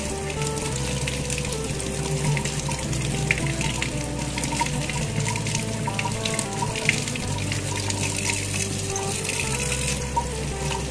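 Duck eggs being washed under a running kitchen tap for salted eggs, a steady broadband rush of water with faint sink splashing throughout, close and continuous, with a low background hum and no talk.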